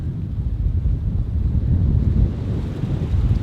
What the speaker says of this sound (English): And yes, it is windy.